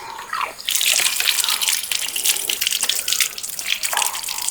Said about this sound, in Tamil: மாங்காய் நல்லா கழுவி எடுத்துக்கிறோம்.